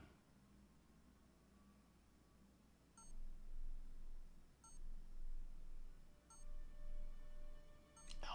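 Electronic beeping in Batman: The Telltale Series video game sounds as short high pulses repeating about every 1.5 seconds over a low ambient hum.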